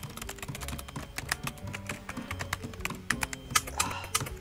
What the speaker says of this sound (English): My keyboard's sticking, one sec.